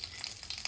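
Bay leaves and whole spices sizzle in hot ghee and oil in a pan, a faint, steady crackling hiss throughout.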